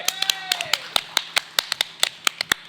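An audience claps in a sparse, uneven pattern of sharp individual claps during a talk on tourist boat safety in Indonesia, with a voice trailing off at the start.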